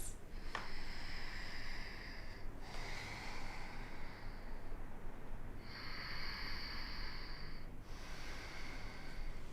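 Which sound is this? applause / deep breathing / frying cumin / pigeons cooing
deep breathing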